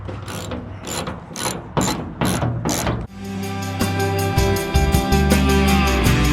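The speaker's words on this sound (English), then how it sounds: "To take these off, you're going to need a half inch socket." A half-inch socket ratchet breaks loose and turns the hood hinge bolts on a 1955–1995 Jeep CJ/YJ during a stainless-steel hinge install, giving several sharp clicking bursts, then a sustained ringing metallic tone and rattles close to the mic.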